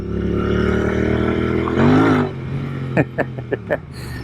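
A Royal Enfield Interceptor 650 motorcycle accelerates hard on loose pea gravel, its engine note rising to a loud peak before cutting back, followed by a few short sharp blips.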